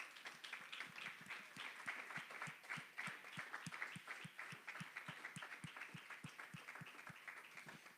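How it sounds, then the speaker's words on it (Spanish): Worshippers in a church clap in a fairly regular rhythm, distinct individual claps standing out in a quieter room, continuing evenly for several seconds without speech. "Denle un aplauso al Señor."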